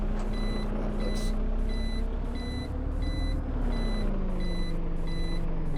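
Simulated Karosa C954 bus engine in OMSI 2, a steady low drone pulling off in second gear, revs rising slightly then sagging, with repeated reversing-style beeps chiming throughout.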